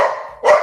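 Dogs barking indoors: two sharp, loud, close barks separated by a brief pause, with no talk.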